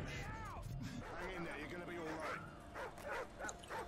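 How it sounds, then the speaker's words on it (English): Dog barking in Call of Duty: Modern Warfare 2 Spec Ops, a few sharp yips and barks amid game noise and overlapping talk from players. "That's a dog."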